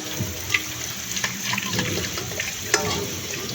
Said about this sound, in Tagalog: So ngayon lang ako maghuhugas ng mga hugasin.